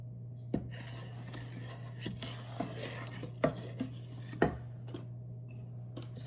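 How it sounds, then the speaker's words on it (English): A spoon stirs fudge mixture in a pot, tapping the sides in a slow series of faint, evenly spaced knocks over a steady low hum. "Stirring occasionally"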